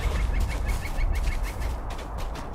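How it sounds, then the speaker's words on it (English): A bird-like scream skill from a video game set in Bree-land, a loud fowl-like squawking cry that sounds close and steady for a few seconds, with no talking over it. "I got a new skill. I can scream like a bird."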